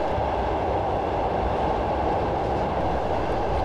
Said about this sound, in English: going to shut off power at this signal to allow the train to coast